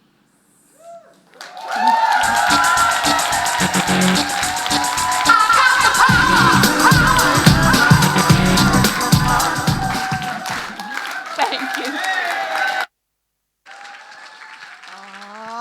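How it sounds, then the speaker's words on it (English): An audience at a global keynote conference breaks into loud sustained applause with cheers and whoops. It swells and holds for about ten seconds, then cuts out briefly before resuming, and a speaker's voice is heard briefly. "Keep that applause going."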